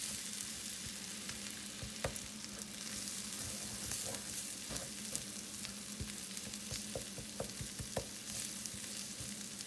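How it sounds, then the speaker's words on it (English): Almond flour being stirred into melted butter in a pan for a keto roux, a soft continuous sizzle with frequent scraping and tapping strokes of the utensil, fairly quiet and close, no voices. "I'm just going to mix this around with the butter for a minute."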